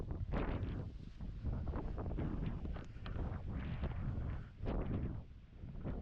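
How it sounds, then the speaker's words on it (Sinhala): Strong gusts of wind buffet the microphone at a mountain campsite on the Kanaviddagala–Kehelpathdoruwa trail in Sri Lanka, a loud continuous roar swelling and easing in waves with no voices. "ඒ තරමට හුළඟ සැරයි"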